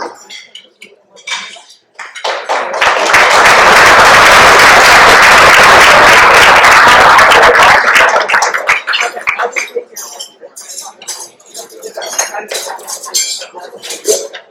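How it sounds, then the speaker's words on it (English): An audience at an arts and culture evening bursts into loud, dense applause that swells quickly, holds strong for about six seconds, then thins into scattered claps and fades. "one more round of applause"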